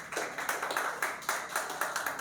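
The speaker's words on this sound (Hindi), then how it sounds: "उनके लिए भी एक बार ज़ोरदार तालियां" An audience at an open poetry gathering claps for a poet, rhythmic bursts of clapping about twice a second, moderately loud and close.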